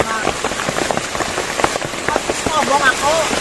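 Rain falls steadily on a surface, a continuous patter with scattered louder drops and some background voices and noise mixed in.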